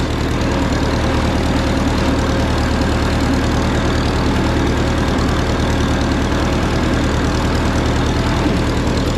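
A Minneapolis Moline RTI tractor pulling an SM mower runs in third gear with a steady, low, throbbing engine drone and mechanical clatter, continuous and close with no pauses or voices.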